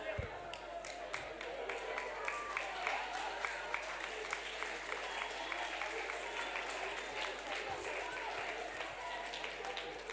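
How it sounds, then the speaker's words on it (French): A festival debate audience in Marseille claps continuously for about ten seconds, a dense, steady patter of many hands at moderate distance with faint voices underneath. "On peut l'applaudir."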